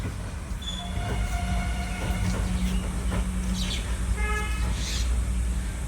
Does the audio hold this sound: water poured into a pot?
no